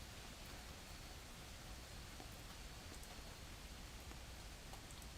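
Steady rain pours down outside an open door, a constant soft hiss with faint drops tapping throughout and no other sounds or voices.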